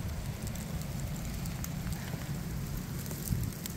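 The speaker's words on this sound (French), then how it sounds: "Et encore sous une averse de grésil" A sleet shower patters steadily in the woods, a dense, fine, even hiss of icy drops with a few louder ticks, soft and continuous with no voices.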